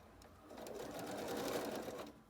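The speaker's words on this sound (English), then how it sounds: "just set your machine up the same as normal and just sew down that seam." A sewing machine runs in one continuous burst, stitching down a quilt block seam with a fast, even needle chatter that swells slightly mid-run, close and fairly quiet with no talking.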